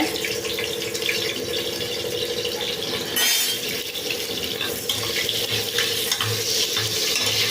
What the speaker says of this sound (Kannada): ಈಗ ಇದು ಕುಕ್ಕರ್ ಕಾದಿದೆ ಒಂದು ಈರುಳ್ಳಿ ಹಾಕ್ಬಿಡ್ತೀನಿ